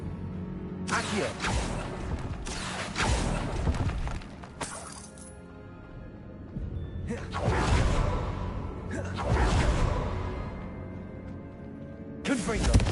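An Accio summoning spell cast in Hogwarts Legacy inside a tomb: several sharp whooshing, shattering bursts with crackling debris, spaced across the passage with quieter gaps between.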